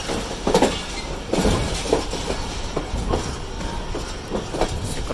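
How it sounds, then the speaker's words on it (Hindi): The Rehman Baba Express crosses Kotri yard, heard loud and close with a steady rumble and repeated clickety-clack wheel beats over the rail joints. "हम कोटरी यार्ड से क्रॉस कर रहे हैं।"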